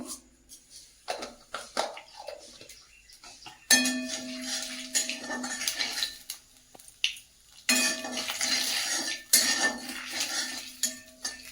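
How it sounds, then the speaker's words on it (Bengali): Nigella seeds dropped into hot oil in a kitchen pan, with clattering utensils and clinks followed by bursts of bright crackling sizzle that swell and fade, close and loud. "তেলটা গরম হয়ে গেছে তেলের মধ্যে দিয়ে দেবো কালো জিরে"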